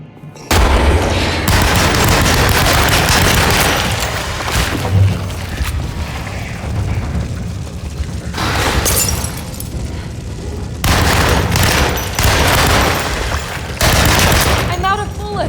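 Heavy gunfire in the survival horror game Alone in the Dark, long loud bursts of rapid shots and booming blasts, broken by a short lull mid-way before the firing resumes just as fiercely.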